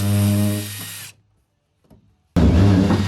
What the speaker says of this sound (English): I struggled on with the drill